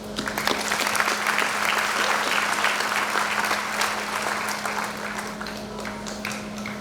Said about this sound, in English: you deserve, as our young people, a round of applause